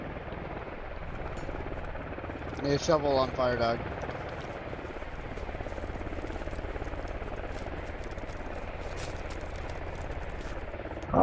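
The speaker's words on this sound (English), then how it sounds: "enemy chopper" An enemy helicopter in the video game Squad produces a steady, droning rotor rumble that runs throughout, with a brief burst of voice chatter partway through.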